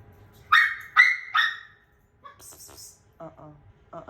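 Dog at home barking three times in quick succession at moderate distance, followed by softer yips and whimpering sounds in a quiet room.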